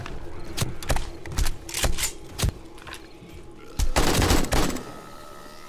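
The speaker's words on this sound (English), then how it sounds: "only shoot when you're gonna hit" Gunfire in the video game 7 Days to Die with the Darkness Falls mod, a string of sharp separate shots at uneven intervals followed by a denser rapid burst, loud and close.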